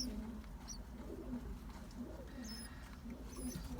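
Pigeons coo softly and steadily inside a loft, with low throaty calls repeating under a faint background hum and an occasional higher chirp or rustle.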